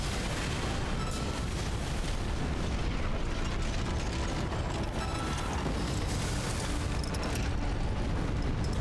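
Heavy shotgun blasts and mechanical clanks from the mech combat video game Armored Core VI, thick and loud over a constant rumbling din with no clear separate shots.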